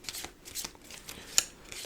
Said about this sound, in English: All right, I will get the deck shuffled just a bit more.